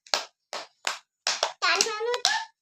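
A handful of sharp hand claps from children in a classroom in Balasore district, Odisha, land in an uneven rhythm, ending in a brief overlapping run before a voice calls out over the last clap.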